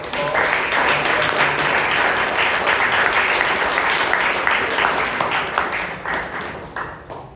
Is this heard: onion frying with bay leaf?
no